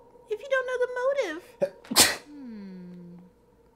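A sneeze from a character in the game Danganronpa 2: Goodbye Despair bursts out sharply in the middle of animated voiced dialogue, loud and brief, with speech right before and after it.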